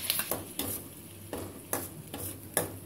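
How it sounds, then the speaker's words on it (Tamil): Ground onion paste sautés in butter in a pan for a rajma mint gravy, with soft repeated scraping strokes of stirring over a low sizzle, close and fairly quiet. "அரைச்ச வெங்காய விழுதை சேர்த்து"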